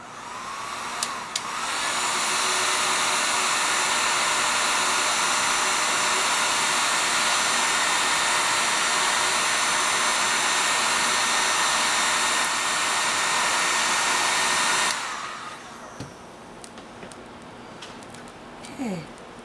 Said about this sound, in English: I'm going to heat set that.